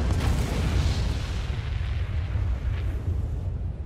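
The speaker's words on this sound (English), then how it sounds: "You see that missile launching from Norati?" A missile launches in the video game Spore, a heavy rumbling boom that swells low and steady for several seconds with no talk over it.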